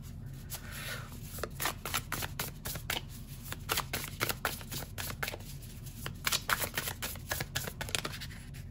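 A deck of oracle cards being shuffled during a pick-a-card reading: continuous rapid riffling and flicking of cards, close and fairly loud, with steady papery bursts throughout and no speech.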